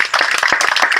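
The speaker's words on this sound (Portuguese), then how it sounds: "Bora aplaudir o Senhor Jesus?" A small congregation at a Christian cell group meeting applauds with quick, irregular close-up handclaps that blend into a short burst of clapping from several people.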